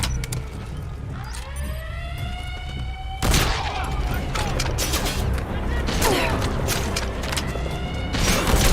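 Gunfire in the Metal Gear Solid V video game, a burst of sharp repeated shots and impacts after a quieter stretch with a rising mechanical whine, a voice talking faintly alongside.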